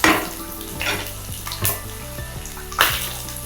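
Garlic frying in a pan gives a busy sizzle, broken by loud stirring scrapes and clatters, with a sharp knock near the end and nobody talking.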